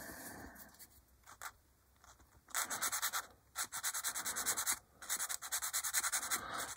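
A coarse sanding stick worked over a plastic 1/48 scale B-25J model kit part, giving quiet scratchy strokes at first, then loud, rapid, rhythmic back-and-forth rasping bursts with brief pauses, close up and with no talking.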